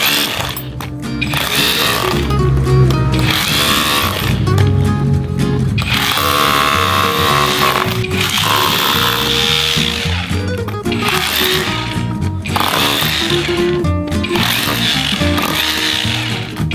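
Loud OSUKA OCRH852 rotary hammer chiselling in hammer-only mode, sustained bursts of harsh rapid pounding rattle with brief pauses between runs.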